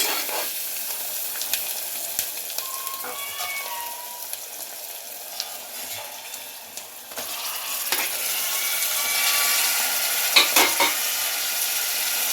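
Bitter gourd pieces frying with onions in a pan, a soft continuous sizzle with occasional utensil scrapes and clinks as they are stirred, fairly quiet and close, no speech.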